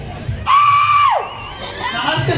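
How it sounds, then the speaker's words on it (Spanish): A crowd at an outdoor Clown Day show in Pánuco, Veracruz lets out a loud, sustained shout on cue, with a high scream riding over the crowd noise for nearly a second before it trails off into murmuring. "Cuando me dé la media vuelta así, Don Pánico Veracruz me regala un grito así."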